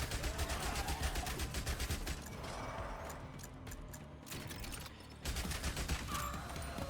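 Rapid submachine gun fire from the Zombie Survivors video game crackles in dense continuous bursts with a brief lull midway, loud and unbroken by speech.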